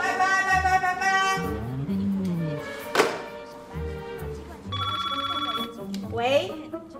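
A telephone rings in a short electronic burst partway through a domestic family drama scene, set against people talking and household sounds.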